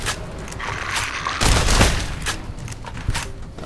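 A caravan shotgun in Fallout New Vegas fires in several loud, close blasts amid combat noise, with the heaviest boom about halfway through.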